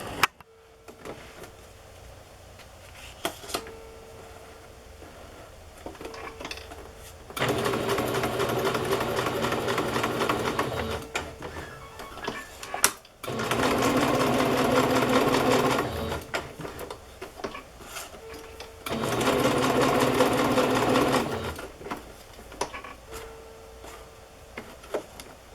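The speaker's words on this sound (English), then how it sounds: "So first I'm gonna sew this down" A sewing machine stitches in several steady runs of whirring, mechanical hum, separated by quieter pauses with faint handling noise.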